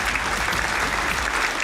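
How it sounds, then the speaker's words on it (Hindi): Loud, dense applause from an audience at an RCM 21st anniversary stage event, steady and continuous throughout with no voices over it. "जोरदार तालियों के बीच में"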